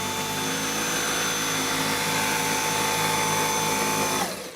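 A Shark Navigator Lift-Away Deluxe vacuum cleaner running on its low setting over a floor, giving a steady loud motor whine and airflow roar held constant, then cutting off abruptly at the end.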